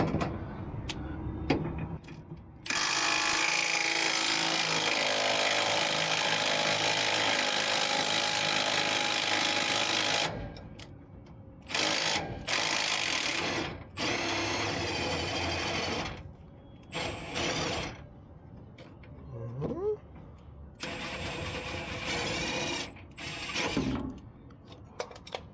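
Power tool whirring steadily while removing the lower leaf spring shackle bolt on a 1988–98 Chevrolet C1500 pickup, a long sustained burst followed by several shorter bursts with gaps between.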